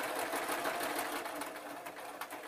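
A sewing machine runs a steady running stitch through fur fabric on a lamb puppet, giving a continuous close whirring drone for the whole moment.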